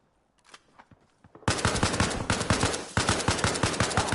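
Gunfire in a PvE military shooter game: a few faint, sparse shots at first, then loud, rapid automatic bursts in close succession for the rest of the clip.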